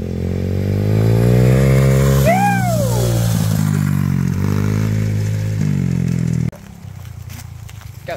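A semi-automatic dirt bike engine runs loud and close in second gear with a steady droning hum, rising and falling through a revving swell, then drops abruptly to a quieter idle near the end.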